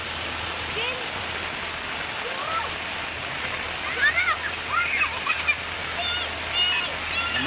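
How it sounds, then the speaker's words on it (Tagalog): Strong pumped water gushes from a small motor-driven pump outdoors, a steady broadband rush throughout with excited voices talking over it. "Lumakas ang tubig ah."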